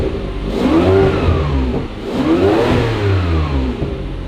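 A Ferrari 575M engine revs twice on cold oil, each rise climbing in pitch and easing back down, close and loud with a steady low rumble underneath and no talk.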